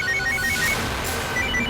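A phone ringtone for an incoming call, a repeating electronic melody of quick bright tones, loud and close over a constant background wash, with no talking.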